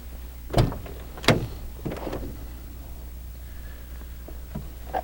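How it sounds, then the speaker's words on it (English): Two sharp mechanical clunks of a 2006 Volvo 780 truck's door locks actuating via keyless entry, a second apart, followed by fainter clicks and a steady low engine-like hum. "So keyless entry, hit the button. You press it twice to do both doors."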